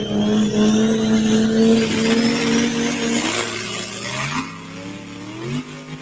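A 3.6 truck revs hard at a truck pulling competition, its engine roaring loud and close, the pitch holding high, then dropping and climbing again as it strains against the chain.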